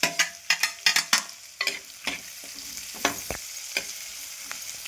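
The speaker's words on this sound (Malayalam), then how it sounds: "വെളുത്തുള്ളി ഇട്ട് കൊടുക്കാം." Garlic fries and sizzles in a pan while being stirred, with a bright steady crackle broken by a quick run of clanking spoon scrapes at the start and a few scattered scrapes later.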